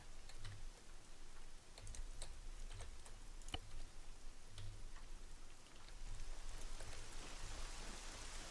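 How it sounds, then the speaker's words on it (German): Steady rain patters in the video game Arma 3, with scattered drops ticking at close range. The sound is faint and continuous, swells slightly toward the end, and plays with no talking. "Auch wenn der Regen jetzt wieder ein bisschen lauter wird"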